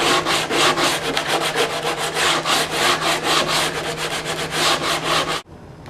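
Wooden guitar braces being hand-sanded down toward the top for brace tuning, a steady rapid back-and-forth scratching that runs continuously and loud for over five seconds before stopping abruptly.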